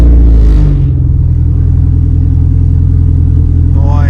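An Acura RSX Type S with full bolt-ons fires up loudly, a brief cranking burst settling into a steady, throbbing idle that stays close and dominant.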